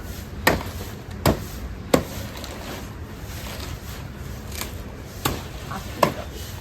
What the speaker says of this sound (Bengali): চল কচুটা কেটে নি।